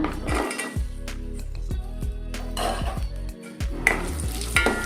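Raisins sizzle and crackle in hot oil in a pan while a utensil stirs and clinks against the metal in irregular scrapes, close and steady, for a sweet halwa.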